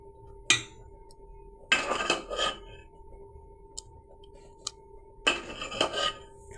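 Slightly warm palm fruit pulp batter is worked in a basin, producing a few short bursts of wet scraping and squelching separated by quiet gaps over a faint, steady background hum.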